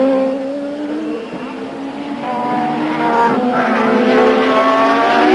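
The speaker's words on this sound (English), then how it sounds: "The car looks to be coughing and spluttering there." A 1987 Zakspeed Formula 1 car at the German Grand Prix at Hockenheim runs with a rough, uneven engine note that rises in pitch, heard at moderate distance in a continuous pass.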